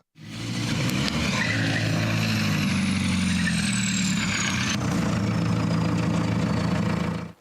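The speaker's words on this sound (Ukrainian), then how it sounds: "Позаду у нас розташований дизельний двигун потужністю 120 кінських сил." A 120-horsepower diesel engine in a Ukrainian-built buggy runs steadily at close range, a deep continuous rumble with a faint high whine drifting downward, no voices.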